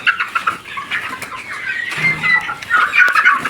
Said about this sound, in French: Il y a une trentaine de poules là-bas.